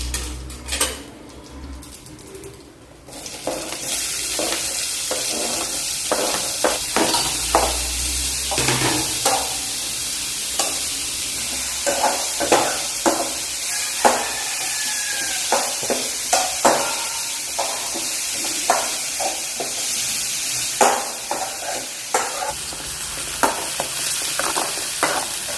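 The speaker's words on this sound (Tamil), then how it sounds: "இப்போ இதில் வெங்காயத்தை நல்லா போட்டு சேவரை நம்ம வந்து வதக்கி எடுத்துக்கலாம்." Onions sautéing in a pan as a ladle stirs them, a constant loud sizzle with frequent scraping and clinking strokes, close by, following a quieter opening few seconds, no voices.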